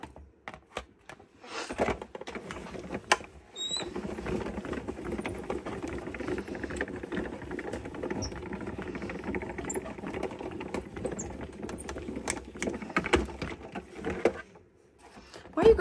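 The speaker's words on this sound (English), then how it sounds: "let me get this going through my die cutting machine" A die cutting machine feeds paper and cutting dies through its rollers for a Close To My Heart Baseline Alphabet Thin Cuts project, giving a steady grinding, rumbling mechanical crunch that runs for roughly eleven seconds at close range, then stops.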